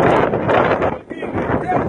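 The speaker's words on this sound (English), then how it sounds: "Wind don't stop nothing, man." Gusty outdoor wind buffets the microphone in a steady, rumbling roar that runs throughout, with a brief lull midway and voices talking over it.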